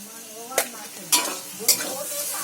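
A spoon stirs taro stems and shrimp frying in a pan with sugar added, three distinct scraping strokes over a steady close sizzle.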